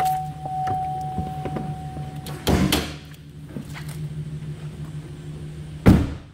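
Power moonroof motor of a 2008 Chevrolet TrailBlazer running inside the cabin, a steady low electric whine with a few clicks, ending in a short thump as it stops.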